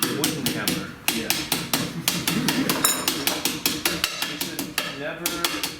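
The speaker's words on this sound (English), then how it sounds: "you might want to use a small hammer. Wooden hammer." A small wooden hammer taps in quick, even strokes close by, with short bright knocks repeating through the whole stretch and a brief metallic ring in the middle.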